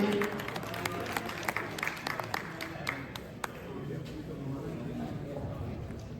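A ceremony audience at an Indian honours event claps for the chief guest, fairly faint scattered applause with a few sharper claps, thinning out as a murmur of voices carries on.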